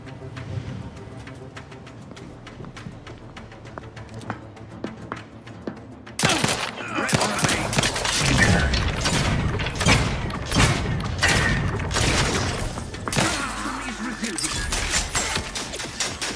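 Turrets opening fire in The Outer Worlds 2: after a quieter stretch, a sudden loud, sustained barrage of rapid gunfire and thuds erupts and continues, with a voice talking over it.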